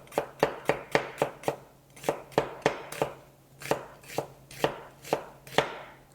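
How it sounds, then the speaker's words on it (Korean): A knife finely slices onion into thin strips on a cutting board, producing a steady run of crisp, close chopping taps at a quick, even rhythm, heard alone. "곱게 채 썰어 주시고요"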